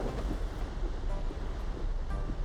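Cartoon sea waves around a sailing pirate ship, a steady broadband wash of surf and wind that rolls on without a break and stands alone with no voices.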